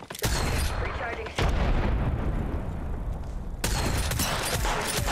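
Grenade blasts and gunfire in a firefight in the game Apex Legends: loud, dense booming bursts and rapid shots roar almost without pause, with a brief dip between heavy blasts.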